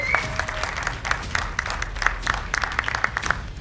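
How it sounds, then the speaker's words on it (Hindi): A crowd gives loud, sustained applause for Govinda, dense clapping with a few sharper individual claps standing out, and some voices and faint whistles mixed in. "गोविंदा जी के लिए जोरदार तालियां हो जाएं"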